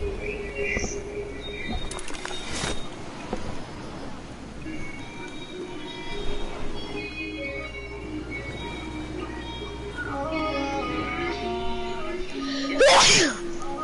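A single sharp sneeze bursts out near the end, loud and close, over a busy outdoor background with birds cooing and calling and someone talking throughout.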